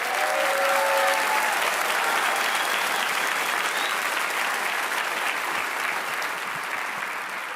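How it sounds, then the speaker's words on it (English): A crowd at a military induction ceremony gives sustained, dense applause, loud and steady throughout, with a faint voice briefly audible at the start. "So please, everyone, give them another round of applause."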